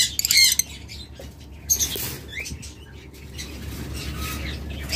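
Pet budgerigars in a cage flapping their wings in quick flurries, with soft patter and rustling, a few faint chirps, close by and without talk.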